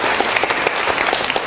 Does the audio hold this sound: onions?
no